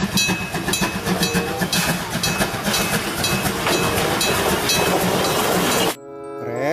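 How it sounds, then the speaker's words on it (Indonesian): A toy Thomas train clatters steadily along its track with a busy run of rhythmic clicks and rattles, stopping abruptly near the end. "Kereta api Thomas."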